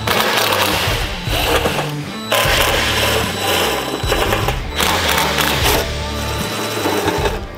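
Power driver buzzing in steady bursts as T40 screws come out of a Harley-Davidson Touring fender, loud and close, with short pauses between runs.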